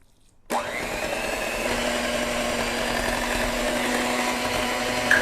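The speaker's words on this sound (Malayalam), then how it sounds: "ഒരു 1/2 കപ്പെങ്കിലും റം ഈ ബാറ്ററിലോട്ട് നമ്മൾ സ്ലോലി മിക്സ് ചെയ്ത് എടുക്കാം" Dark brown rum is mixed slowly into cake batter. An electric mixer starts abruptly after a moment of quiet, then runs as a steady, fairly loud motor whine and hum, with no voices.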